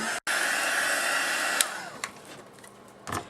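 A heat tool blows steadily for about three seconds to dry watercolor on a handmade Valentine card, its loud, even whir cutting out briefly near the start and then fading to a lower hum near the end.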